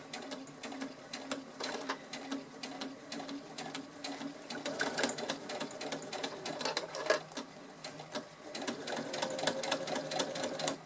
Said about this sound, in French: je fais cette couture tout le tour